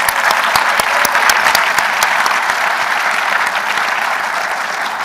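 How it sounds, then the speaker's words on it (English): An audience at a Washington, DC discussion of the documentary Out of Plain Sight gives a loud, sustained round of applause, with many sharp individual claps standing out from a thick, even roar of hands. "Can we give everyone another round of applause?"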